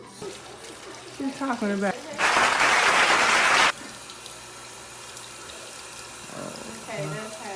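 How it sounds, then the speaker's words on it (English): A kitchen faucet runs hard for about a second and a half, filling a pot for a crawfish boil, as a loud rushing burst set between stretches of conversation. "Now, baby, turn that water on."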